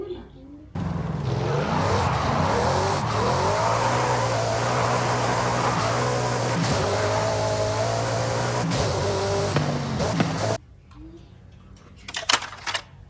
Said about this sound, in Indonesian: Mobil balap Bugatti.